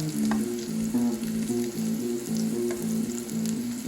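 Pumpkin slices fry in hot oil, a close, steady sizzle and crackle that carries through the whole stretch without talk, with a faint rhythmic hum beneath.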